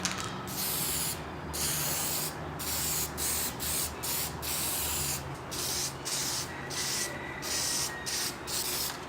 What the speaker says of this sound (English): finish him with spray wax